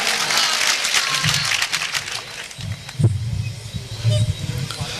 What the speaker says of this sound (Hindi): आपकी तालियां बजनी चाहिए, तालियों से इस्तकबाल करिए अरशद जिया साहब